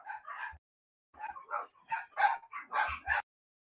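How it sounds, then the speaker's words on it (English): Small pet dogs bark and yip through an open door in a burst of rapid, overlapping high-pitched barks, fairly close and alone, stopping after a few seconds. "We have the door open and my doggies bark."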